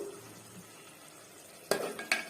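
Spinach egg curry stirred in a pan with a spoon: a soft low sizzle runs under two sharp utensil clanks against the pan near the end, close and alone.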